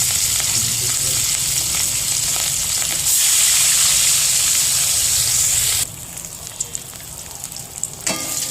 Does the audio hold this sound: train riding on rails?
no